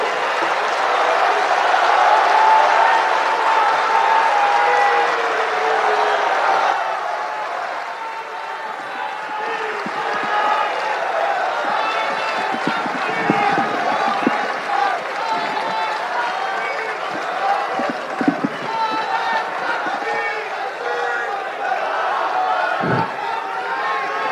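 A large crowd applauds and cheers to welcome Dr. Zakir Naik at a religious lecture, a dense, steady roar of clapping with crowd noise that eases after the first few seconds and continues through the hall with occasional thumps.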